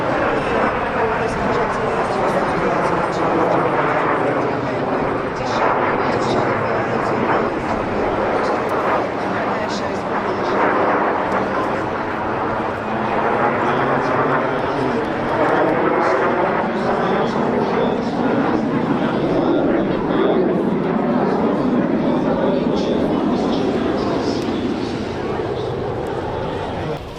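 De Havilland Vampire FB.52 and Strikemaster jets fly as a pair at the Clacton airshow, a loud, sustained jet roar swelling and fading steadily throughout with a public-address announcer and crowd talk underneath.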